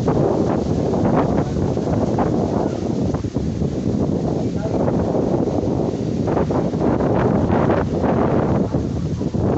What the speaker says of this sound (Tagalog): Kasi hangin talaga, grabe.